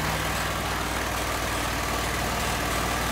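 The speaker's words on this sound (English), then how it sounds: "see, we rev the engine up" A GEET vaporising carburettor engine runs at a loud, steady idle, with a continuous low mechanical drone that holds even and unbroken throughout and no talking.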